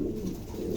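Brief, soft cooing from a pigeon kept for sale, a low burbling call heard close by with no talk.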